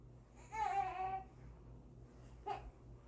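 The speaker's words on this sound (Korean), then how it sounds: "아기가 울고 있어요." An infant cries softly in a home, a drawn-out whimpering wail followed by a short second cry, faint and heard on its own with no talk over it.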